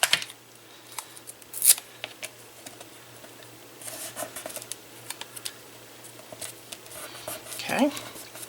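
Scissors trimming paper for a handmade mixed media card, a few sharp close snips and rustles of paper spread across the clip, with quiet handling noises in between.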